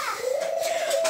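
A pet bird lets out a single clear rising-then-level whistled call, close and fairly loud, lasting about a second against quiet room tone.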